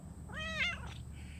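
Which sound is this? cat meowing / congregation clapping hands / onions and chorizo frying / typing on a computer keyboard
cat meowing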